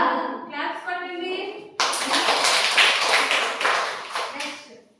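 Schoolchildren at an ashram school break into a burst of quick, crisp clapping after a voice finishes speaking. The clapping starts suddenly and carries on for about three seconds, then fades out.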